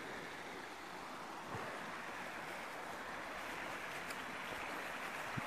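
A creek runs beside the bank, its broad steady wash of flowing water filling the space evenly from start to end, fairly faint and with no voices over it.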